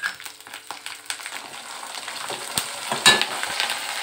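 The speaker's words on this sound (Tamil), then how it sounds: "இதெல்லாம் வதக்கி விட்டுடலாம்." Coriander seeds, cumin, dried red chillies, curry leaves and garlic sauté in a pan, giving a soft sizzle broken by uneven scraping stirs and light ticks from the spatula, with one sharper clatter near the end.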